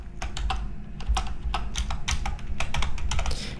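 Fingers typing quickly on a computer keyboard, with dense close clicks and keystrokes in an uneven rhythm, some heavier presses standing out, heard alone without speech.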